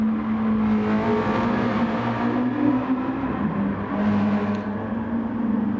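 A Mazda Roadster race car engine drones loud and close while braking into turn 1 at Tsukuba Circuit, a steady buzzing note that shifts pitch as revs drop and rise, with other cars' engines mixed in.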